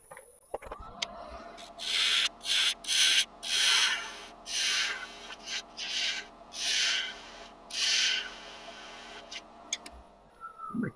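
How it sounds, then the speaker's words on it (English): A regular spindle gouge cuts straight down into a diameter of a wood spindle on a lathe, giving loud bursts of rough scraping and hissing in separate passes of about half a second to a second each, with quiet gaps between them. "I will use a regular spindle gouge with a nice edge on it. And we'll come straight down into that diameter there."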